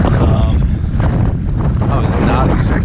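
Strong wind buffets the microphone on a lake bank at Coyote Lake during a bass fishing outing, a loud, steady broadband rush with gusts and no break.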